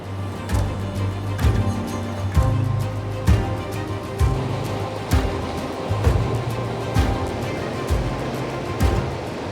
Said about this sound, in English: I can't believe how rough these falls are